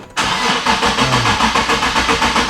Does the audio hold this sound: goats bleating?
no